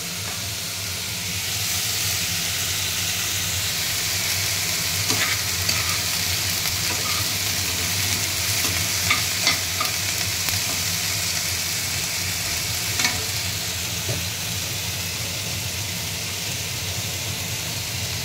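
Khesari greens frying in a pan as green chillies go in, a loud continuous close sizzle and hiss with occasional small crackles and pops, with no one talking.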